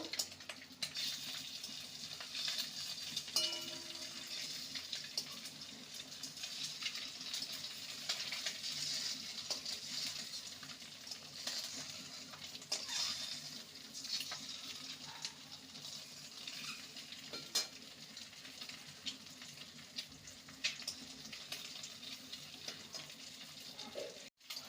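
Eggs frying and being turned in a pan of oil for egg vapa curry, a faint, continuous soft sizzle with occasional light scrapes and clicks, no voices.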